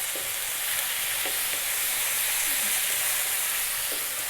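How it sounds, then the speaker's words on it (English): Turmeric, coriander, cumin and chili powders fry in a pan with a steady, even sizzling hiss, broken by a few faint scrapes from stirring. "Very important to keep stirring now, because otherwise the powders are going to burn, and if they burn they get bitter."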